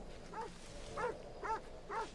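A dog in Assassin's Creed Odyssey barks four times at an even pace, faint and somewhat distant, with no talk over it.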